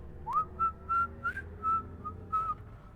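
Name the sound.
character whistling in Guardians of the Galaxy video game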